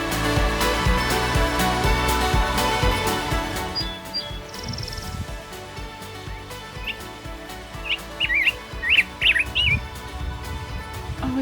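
A bird calls at Black Canyon of the Gunnison on the South Rim, giving short high chirps and twittering bursts toward the end, fairly clear over a background of wind and rustling, with no talking.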